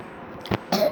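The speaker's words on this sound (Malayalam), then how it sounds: "ചുമ" Two short, harsh coughs from one person sound close and loud after a quiet background lull, the second slightly longer than the first.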